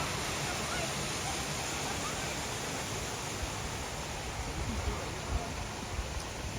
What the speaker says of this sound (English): this is a pretty good flow for the waterfall